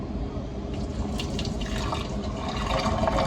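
Hot water runs into the cleaning container of a Starbucks Mastrena espresso machine. The pour is a continuous splashing, bubbling stream that stays steady and fairly loud for its whole length, with no talking.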